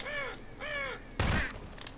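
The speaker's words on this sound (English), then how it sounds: "Stupid bird." A crow in the Half-Life 2 video game gives two drawn-out caws in quick succession, followed by a sharp, noisy burst and a faint trailing sound, with no talk.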